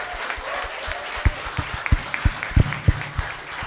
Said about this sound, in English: give yourselves all a big round of applause